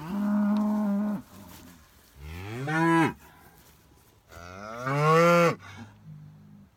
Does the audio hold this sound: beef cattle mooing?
yes